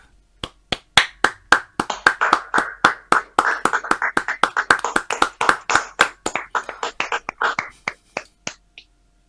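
A small group clapping in a studio, sharp distinct hand claps at an uneven, loosening rhythm that thins out and stops after several seconds, with no talk over them.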